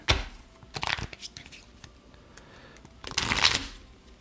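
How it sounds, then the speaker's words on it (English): Playing cards being shuffled for a tabletop game, heard as two quick riffling bursts near the start and another near the end, close and crisp, with quieter handling noises in between. "let's start doing our shuffles here."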